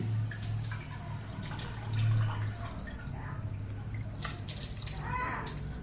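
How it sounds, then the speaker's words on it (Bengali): Rice poured into a pot of hot water with whole spices, bay leaf and a little oil, making soft splashes, drips and sloshing close by, with muffled kitchen handling sounds. "তারপরে আমি চালটা দিয়ে নিচ্ছি"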